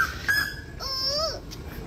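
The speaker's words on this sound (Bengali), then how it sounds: "আর শুনতে পাচ্ছেন কোকিলের আওয়াজ?" An Asian koel calls by the Ganges, a few clear rising whistled notes at moderate distance over a faint background hum.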